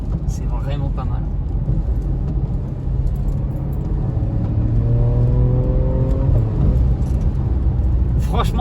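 Porsche Macan S engine revs rising as the SUV accelerates, heard from the cabin with a steady low rumble that climbs in pitch midway before easing off.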